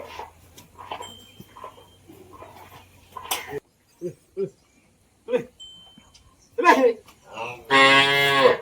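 Cows and calves in a shed give scattered moos, a long loud call near the end standing out, with people talking and short barking-like sounds mixed in earlier.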